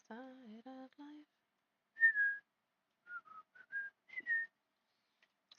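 Someone whistles a tune, a few short clear melodic phrases with gaps between them, quiet and close, with no one talking.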